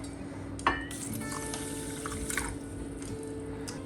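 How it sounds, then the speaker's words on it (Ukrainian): Water pours steadily onto poppy seeds in a pot or bowl, a broad splashing wash with a brief clink near the start, continuous and close. "Заливаємо мак також водою."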